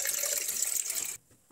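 Water running from a tap into a pot to be heated for making pakoras, a steady splashing stream that stops abruptly near the end.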